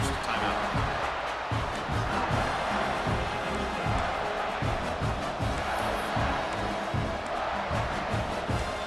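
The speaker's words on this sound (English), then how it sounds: "this big crowd doing everything possible to inspire this defense down here near the goal line" Stadium crowd roaring steadily in EA Sports College Football 26 as the defense lines up near the goal line, a dense continuous wall of cheering and chanting with thumping beats underneath.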